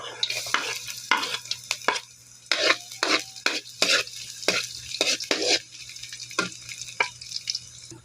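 Garlic sautéing in a pan for dinuguan, a steady oily sizzle broken by repeated sharp scrapes and clinks of a utensil stirring against the metal, close and fairly loud with no talk.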